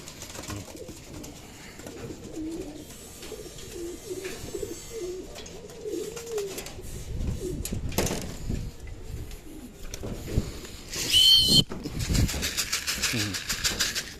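Pigeons coo softly nearby in a loft with young birds present, low burbling calls under intermittent talk, with rustling and flapping toward the end.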